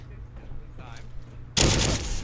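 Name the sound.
gunfire in Fallout 4 video game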